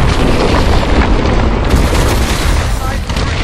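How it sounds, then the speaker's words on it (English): Missile strikes exploding on the hard points of a hydroelectric dam in the Call of Duty: Advanced Warfare campaign, a dense, continuous roar of booms and blasts, loud and unbroken across the whole moment. "Lock onto those hard points and hit them with your missile."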